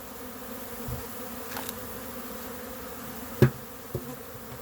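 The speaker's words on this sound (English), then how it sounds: "that's a good orientation flight. It's a lot of bees." A swarm of honeybees on an orientation flight hums continuously, a dense, steady buzz filling the air, broken by a couple of faint knocks.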